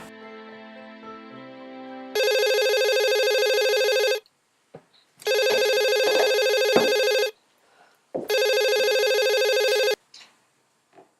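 A telephone rings in three long electronic bursts separated by short pauses, loud and close, preceded by a few seconds of soft background music; no one speaks.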